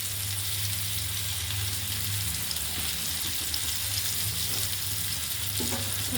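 Tuna fish deep fries in hot oil, giving a steady, dense crackling sizzle that runs unbroken and close up, with a low hum beneath and an occasional faint stir.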